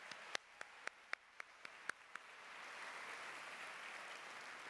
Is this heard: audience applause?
yes